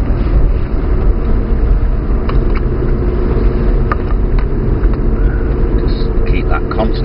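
Aston Martin DBS engine holds a steady, loud drone while driving between cones, a constant rumble with wind and road noise and no change in pace.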